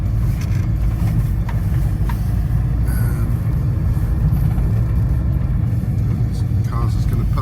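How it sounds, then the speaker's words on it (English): In a supermarket car park, a car pulls out amid a constant low engine rumble and idling close by, with a voice talking over the steady drone. "Cars is going to pull out straight in front of me."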